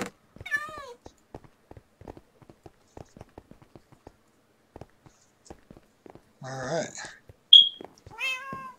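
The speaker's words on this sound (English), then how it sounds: "The cat keeps meowing." A cat meows repeatedly in the Minecraft video game, bright rising calls at the start and end with a cluster in the middle, while a person talks over it and soft clicking runs throughout.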